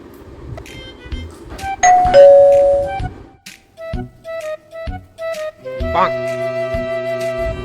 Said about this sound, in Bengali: কে বেল বাজাচ্ছে তাহলে